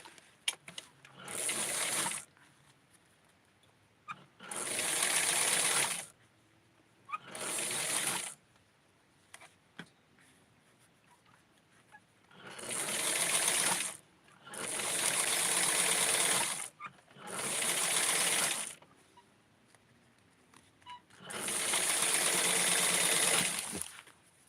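Lace is sewn onto a small doll garment on a sewing machine in several separate bursts of close, steady stitching, each a few seconds long, with quiet gaps between them.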